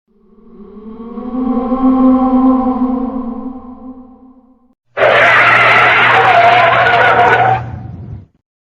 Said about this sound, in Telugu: శశి బ్రేక్ వేశాడు